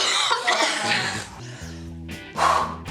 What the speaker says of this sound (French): quand elle aura fini de tousser